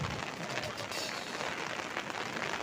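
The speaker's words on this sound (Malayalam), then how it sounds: "ഓ ആ മുഴുപ്പിലങ്ങാട് ബീച്ചിലെ മഴ" Steady rain patters and hisses at Muzhappilangad beach in Kerala, a faint, even wash of drops with no voices over it.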